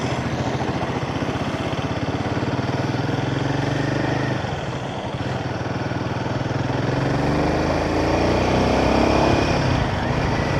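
Royal Enfield Himalayan 450 motorcycle ridden at night on a highway, a loud continuous engine drone with wind rush, dipping briefly mid-ride then climbing again as revs rise.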